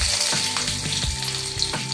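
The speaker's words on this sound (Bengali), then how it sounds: "এবার আমি এর মধ্যে তেলের মধ্যে দিয়ে দিচ্ছি সরু সরু কাটা কিছুটা" Thinly sliced ginger hitting hot oil in a pan, giving a dense, steady sizzle with light scraping stir sounds, close and fairly loud.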